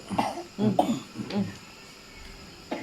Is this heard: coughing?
yes